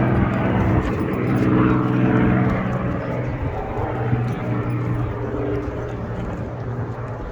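Airspeed Ambassador turboprop airliner in Dan Air London livery, a steady loud propeller-engine drone with a low tonal hum holding throughout, close by and with no talk over it.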